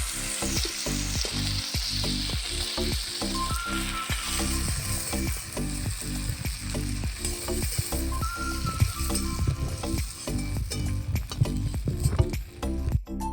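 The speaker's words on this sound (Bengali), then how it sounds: "চিংড়ি মাছগুলোকে লাল করে ভেজে নিচ্ছি।" Prawns fry and sizzle in mustard oil in a wok, a steady loud crackle running throughout, with repeated scraping and clacking strokes of a spatula stirring at an uneven rhythm.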